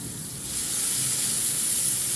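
Chopped onion in a little oil sizzling in a pan while it is stirred, a close, steady bright hiss that swells after a brief quieter start and holds loud to the end.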